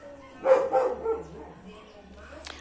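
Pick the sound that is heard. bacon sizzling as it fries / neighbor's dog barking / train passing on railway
neighbor's dog barking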